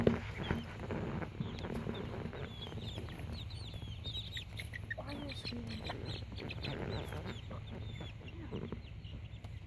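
Chicks almost four weeks old, including a barred Plymouth Rock and a light brown leghorn, cluck and cheep outdoors on their first trip outside, making soft continuous chatter at moderate distance over low background rumble.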